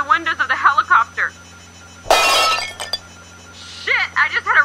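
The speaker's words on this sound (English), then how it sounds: "I just had a rock crack the glass in my cockpit" A rock cracks the cockpit glass of a sheriff's helicopter in an audio drama, a sudden loud crunching shatter lasting about a second, set between stretches of radio-style talk over a steady engine hum.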